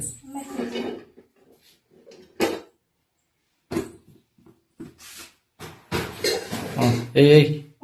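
Pots and dishes clatter in sharp, scattered bursts in a home kitchen during cooking, with pauses between the knocks and someone talking nearby.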